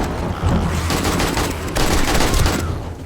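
AK rifle gunfire in the survival video game 7 Days to Die, a dense, continuous barrage of loud automatic shots that fills the whole stretch, with no talk over it.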